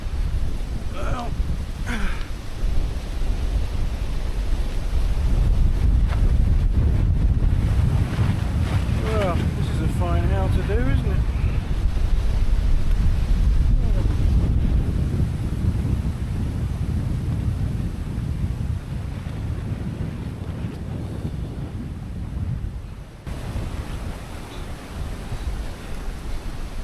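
Strong, sustained wind roars and buffets the microphone at a deep jungle base camp, a steady low rumble that swells and eases over the whole stretch with no talk.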